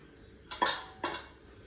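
Two quick scrapes of a spoon against a pan, about half a second apart, as mixed leaf curry of pumpkin, amaranth and other greens is stirred; quiet, with no talk.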